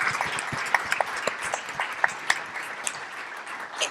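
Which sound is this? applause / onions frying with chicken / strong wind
applause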